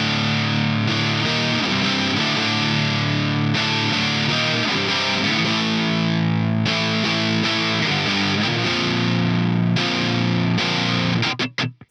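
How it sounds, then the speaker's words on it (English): Heavily distorted electric guitar plays the intro and chorus riff of a song, loud and continuous with chugging chords and a few brief breaks. It ends in a quick burst of strums before cutting off. "And that is the whole intro and chorus riff."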